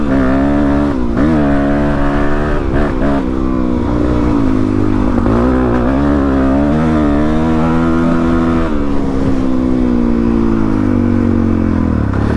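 A 2004 Yamaha WR-F 250 motorcycle engine roars loud and close while riding, its pitch rising and falling through gear changes and throttle shifts, with steady wind buffeting throughout.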